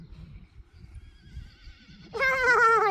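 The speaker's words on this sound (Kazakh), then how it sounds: "Аттар кісіне." Horse in a rural village in Kazakhstan's Kyzylkoga area lets out one loud, close whinny near the end, after a stretch of faint low rumbling.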